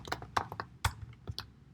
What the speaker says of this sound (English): Now I'm going to be typing list1